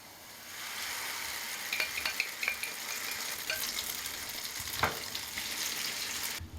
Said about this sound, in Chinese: 马上准备煎锅来煎